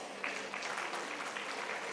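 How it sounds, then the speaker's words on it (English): Applause from a conference audience for the chairperson and speakers, a short burst of dense, even clapping at moderate distance lasting a couple of seconds. "We may give our chairperson and speakers a warm round of applause."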